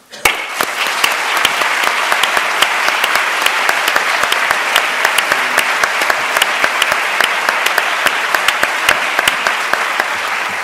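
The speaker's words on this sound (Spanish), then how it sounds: "nuestra exigencia de avance con un gran aplauso de bienvenida." A loud, enthusiastic round of welcoming applause from a lecture audience at a cancer research talk, with dense continuous clapping and sharp individual claps standing out throughout.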